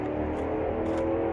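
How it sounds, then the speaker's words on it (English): Road traffic on Highway 9 forms a steady, faint background rumble of passing cars, continuous and distant, with no one speaking. "sorry about the background noise. I mean, this is Highway 9."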